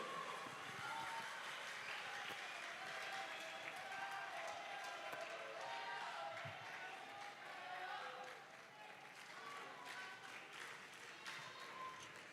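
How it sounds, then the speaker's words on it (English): Sustained audience applause for a choir at a choral festival competition in Asaba, Nigeria: a dense, steady wash of many hands clapping that continues for over ten seconds, easing slightly toward the end, with faint voices beneath. "Another round of applause for Imo City Choral"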